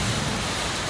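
Steady rain falls around the docks of a marina in Phuket, Thailand, with moored yachts nearby, making a dense, even wash of noise with a low rumble underneath and no voices.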